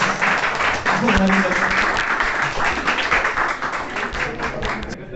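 An audience at a college farewell party applauds after a song performance, a dense, loud burst of clapping that swells and then slowly thins, with a voice briefly audible over it.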